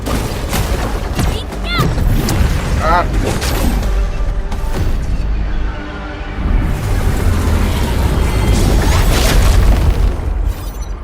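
Booming explosions and bursts fill a combat scene in Arknights: Endfield as an anchor structure is blown apart, with repeated heavy blasts and crackling debris over a steady rumble and no one speaking.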